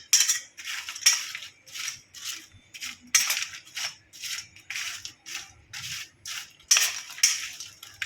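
Homemade sweet potato wafers being tossed with spices in a bowl, producing a rapid series of crisp rustling, clattering shakes in regular bursts, close and fairly loud.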